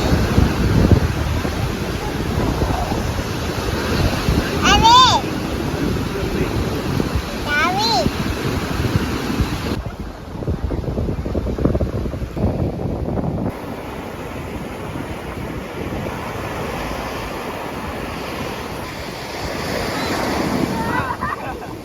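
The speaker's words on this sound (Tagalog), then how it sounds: "enjoy muna natin yung tunog ng hampas ng mga alon and haplos ng malamig na hangin" Ocean surf washes steadily onto an Ilocos beach under gusty cool wind, with wind buffeting the microphone throughout and a brief quieter lull midway, while a voice speaks faintly underneath.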